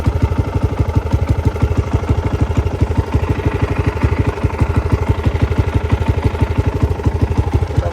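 A motorcycle engine idles steadily close by, its fast even put-put pulse continuing unbroken with a mechanical clatter and no voices over it.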